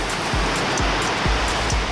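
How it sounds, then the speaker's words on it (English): Ocean waves crash continuously in a loud, broad roar of surf and spray, with rhythmic low thumps recurring about every half second and no voices. "The waves are crashing in."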